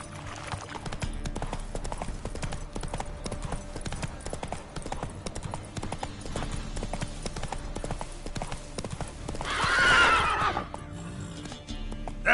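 Roach, a horse in The Witcher 3 video game, trots with a steady, even clip-clop of hooves throughout. A loud whinny breaks out near the end, and there is no talking.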